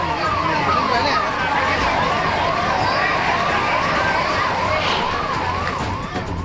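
Fire engine sirens wail continuously at a slum fire in Mangalwar Peth, Pune, a steady rising-and-falling tone heard under a voice talking throughout.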